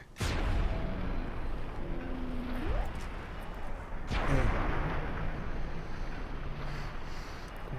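Mini nuke blasts in Fallout 3, two heavy explosions a few seconds apart followed by long rumbling roars and debris, loud and close.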